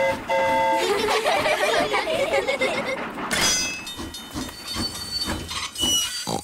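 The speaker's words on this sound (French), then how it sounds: "le train roule sur les rails" Cartoon steam train rolling along rails, a continuous chugging hiss with clattering wheels and a whistle-like tonal sound, loud and near, with voices singing over it.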